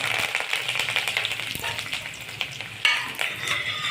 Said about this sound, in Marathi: आता आपण कढीपत्ता घालत आहोत